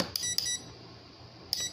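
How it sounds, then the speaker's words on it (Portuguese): A multimeter on its continuity setting, used to test parts of a Sony 40-inch LED TV, gives short, faint electronic beeps, two close together at the start and a couple more near the end, with quiet room tone between. "Tava nessa escala de bip mesmo."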